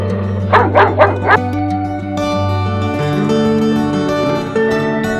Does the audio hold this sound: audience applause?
no